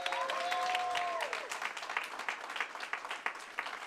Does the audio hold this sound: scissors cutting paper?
no